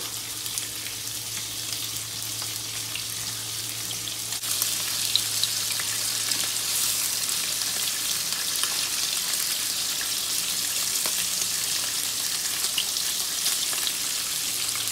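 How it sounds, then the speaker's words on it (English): Battered shrimp deep frying in a pot of oil, a dense, even bubbling hiss that holds steady and close for the whole stretch with no voices. "I'm pretty sure we're gonna have to fry in two batches"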